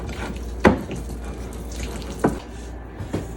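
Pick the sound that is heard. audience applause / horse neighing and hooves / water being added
water being added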